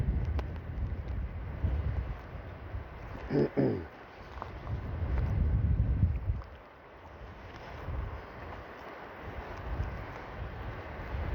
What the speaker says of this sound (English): it's so windy it's hard to walk